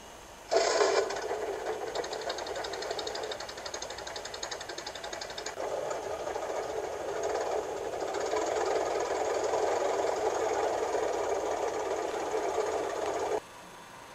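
A steam locomotive engine being readied at a small country station in an animated children's show, giving a steady mechanical chugging and rattling hiss that runs loud and continuous for about thirteen seconds, with no talk.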